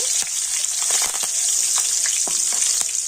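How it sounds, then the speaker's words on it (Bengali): Curry leaves crackle and spit as they hit hot oil in a kitchen pan, a loud, bright, continuous sizzle with sharp popping bursts, heard close and without talk. "গরম তেলের মধ্যে কিন্তু কারি পাতা ভাজা হয়ে যাবে"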